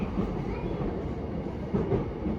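E233-7000 series train running on the Sotetsu-JR through line between Musashi-Kosugi and Hazawa Yokohama-Kokudai, a steady loud interior rumble of wheels and motors with faint rhythmic clatter over the rails.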